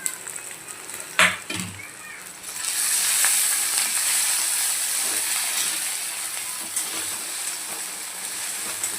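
Thecha chili paste hitting a hot pan with chicken, a clatter then a steady loud sizzle that builds and continues to the end, close by, with occasional stirring scrapes.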